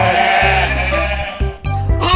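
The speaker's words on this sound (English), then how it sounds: "G for goat." A goat bleats in a loud, wavering, close call that breaks off briefly before a second shorter bleat, no other sounds around it.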